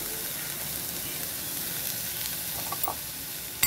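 Capsicum and tomato sizzle as they are stir-fried in a pan, a steady hiss with a few soft stirring clicks and a sharp scrape near the end, no talking.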